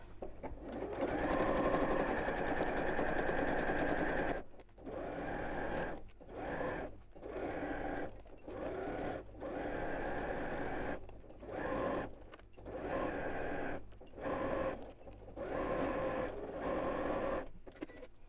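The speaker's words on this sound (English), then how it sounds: "now I'm going to sew from the side that I've just sewn so I can actually see where I'm going. And we'll sew that lining in place" A sewing machine stitches the lining of a bowling bag in short, rapid bursts separated by brief pauses. The whirring clatter stays close but fairly quiet.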